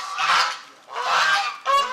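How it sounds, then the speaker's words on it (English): Geese honk loudly and close by in three bursts, two long harsh calls and a shorter final one, on a farm that also keeps pigs and chickens. "we have geese"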